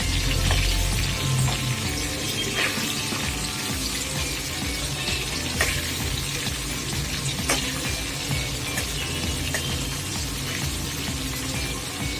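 Whole pointed gourds (potol) fry steadily in oil in a pan, a loud, continuous sizzle with occasional crackles and light clinks running unbroken throughout.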